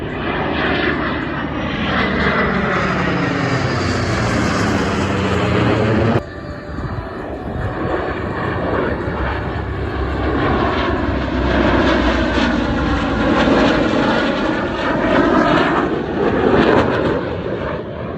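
Propeller airplane making a low flyby, its loud engine roar swelling and sweeping past up close, with a sharp change partway through, then a steady rumbling drone continuing for the rest of the pass.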